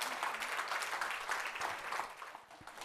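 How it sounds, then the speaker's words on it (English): Audience applause at a summit fireside chat on handloom traditions, a steady wash of clapping from the crowd, fairly faint and continuous. "Give her a big round of applause,"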